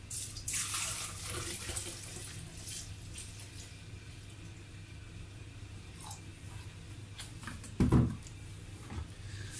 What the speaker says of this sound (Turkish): Bunun üzerine şimdi biz bir litre alkol ekliyoruz.